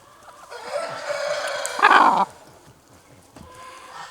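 Young three-quarter Asil, one-quarter Shamo cross chickens, black Asil-type birds about three months old, clucking and calling close by in a short burst that swells loudest near the middle, with faint background noise around it.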